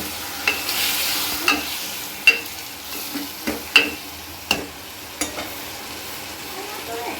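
Onion curry cooking in a pan after a splash of water is added: a low simmering sizzle under a series of sharp, irregular clinks and taps of a spoon stirring against the pan, fairly close.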